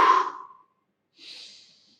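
A person exhales during a slow yoga squat, a soft breathy release that fades out, followed after a short pause by a faint airy breath; close and quiet, with no talking.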